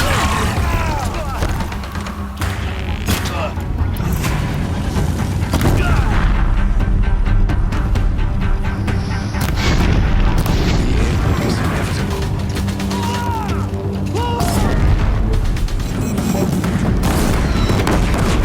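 Heavy gunfire and repeated booming explosions at a bridge in the video game Horizon Zero Dawn, a loud dense battle din with crashes and mechanical clatter running continuously throughout.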